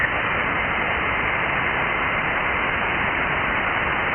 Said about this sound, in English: That's a jammer up there.